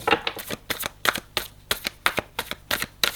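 Tarot cards shuffled by hand in a quick series of crisp riffling bursts, roughly a dozen in three seconds, close and clear with no talking.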